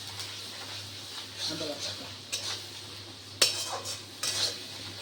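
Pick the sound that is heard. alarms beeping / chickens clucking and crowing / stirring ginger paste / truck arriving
stirring ginger paste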